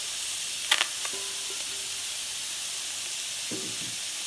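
Steady, quiet steam hiss rises from chicken curry cooking without oil in AMC cookware, with a few faint clicks near the start and no voices.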